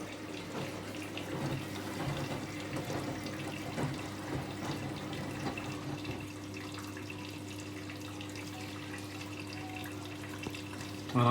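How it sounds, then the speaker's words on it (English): Hot water runs steadily into a Hoover A3060 Electronic 1100 washing machine during its fill, a continuous faucet-like rush and trickle with faint intermittent clatter, moderately close and without speech. "The water going into the A3060 is pure hot"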